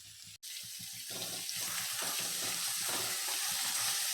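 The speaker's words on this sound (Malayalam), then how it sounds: "ഒരു നാല് മീഡിയം വലിപ്പമുള്ള സവാള ചെറുതായിട്ട് സ്ലൈസ് ചെയ്തതും അര ടീസ്പൂൺ ഉപ്പും കൂടി ചേർത്ത് നമുക്കിതൊന്ന് വഴറ്റിയെടുക്കാം" Sliced onions with salt sauté in a pan, giving a steady close sizzle with faint stirring scrapes that runs without pause after a brief gap at the start.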